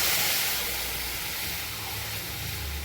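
Hot water pours into a spice masala of chili, turmeric and garam masala for a Vidarbha kathwada curry, a steady broad hissing splash throughout.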